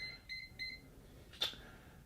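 A micro gun vault gives a few faint, short electronic beeps, two or three high-pitched tones in quick succession followed by a brief click, quiet and close with no talking.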